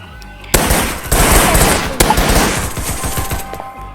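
Rapid machine gun bursts in a Thai shooting video game called Hipper Shot, loud dense crackling volleys that start abruptly and run almost continuously with sharp individual reports, and faint voices mixed in.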